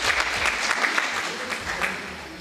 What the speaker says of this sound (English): Big round of applause to sir.